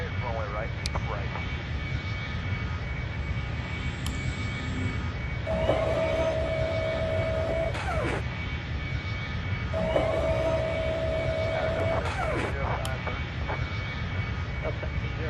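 An airliner engine roars steadily at high power as a Boeing 777 takes off in the Airline Commander game, a continuous rumble under radio-style cockpit voices and two long electronic tones.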